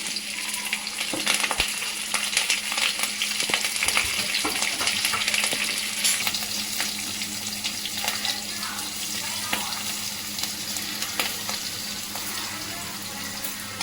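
Cumin, mustard seeds and green chillies frying in oil for a bachelor-style tomato curry, a steady close hiss and crackle running throughout with scattered pops and a few clinks, alongside a faint background hum.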